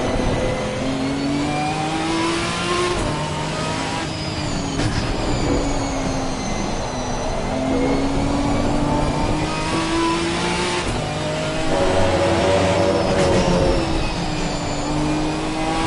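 A Ginetta GT4 race car engine in the racing game Assetto Corsa Competizione drones steadily and loudly on a wet track, its pitch rising and falling with throttle changes across a continuous run.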